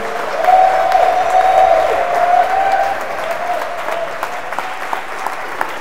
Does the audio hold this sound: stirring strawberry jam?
no